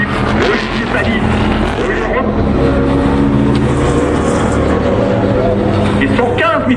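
A race car at the Albi Grand Prix 2009 roars past loudly and close, a steady intense engine howl filling the scene while a commentator talks over it.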